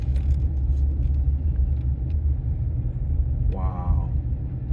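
A car cruises through the streets of Meridian, Mississippi, with a steady low engine and road rumble throughout, faint ticks and a brief high tone near the end, heard from inside the vehicle.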